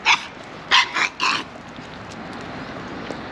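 A small Yorkshire terrier lets out four sharp barks at a large Rottweiler behind it on a walk, loud and close in rapid bursts, then falls quiet over faint outdoor background.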